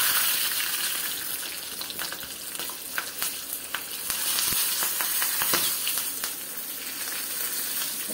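Green chilies frying in hot oil in a pan, a dense, loud crackling sizzle with scattered pops and spits throughout, close and without voices.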